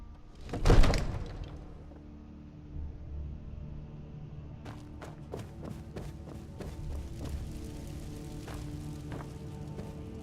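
A door in the video game Skyrim thuds open with a loud low knock, followed by a run of short, regular footstep-like clicks and faint ambient hum, with no talk over it.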